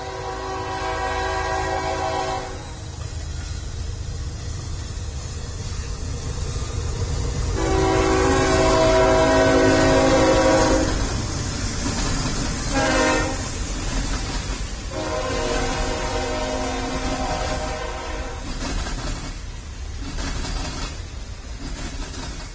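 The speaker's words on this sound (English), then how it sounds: "as we sit here watching the trains coming in and out" Trains arriving and departing in the railway-building game Mashinky: steady rolling rumble and clatter with several long, loud horn blasts of varying pitch, some overlapping, with no one talking.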